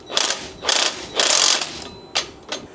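A ratchet wrench tightens a handle nut on a Blue Ox base plate while a Ford F-150 is set up for flat towing. Short, close bursts of rapid clicking come in quick succession, with brief pauses between strokes.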